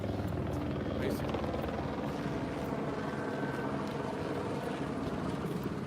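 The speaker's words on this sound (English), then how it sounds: "Fuck, there's helicopters everywhere." Helicopters fly overhead above packed city streets, their rotors making a steady, loud, unbroken drone that fills the whole stretch.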